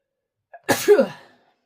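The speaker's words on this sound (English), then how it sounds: "I have to sneeze." A single sharp sneeze with a quick intake of breath before it, close and fairly loud, followed by silence.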